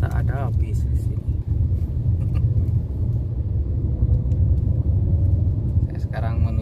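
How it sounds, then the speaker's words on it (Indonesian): A large bus rumbles past on a street in the Saramakrona area, a loud, steady low engine drone that fills the scene throughout, with people talking nearby. "Ternyata ada bis di sini."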